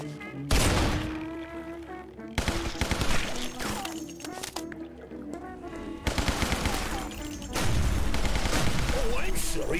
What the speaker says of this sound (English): Nothing beats the good old Tommy gun.